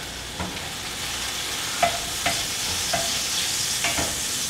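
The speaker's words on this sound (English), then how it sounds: "go ahead and put in that butter. And we're just going to stir that in" Butter is stirred into a hot pan of steak juices off the heat, a soft continuous sizzle with several distinct scrapes of a utensil against the pan, close and clear.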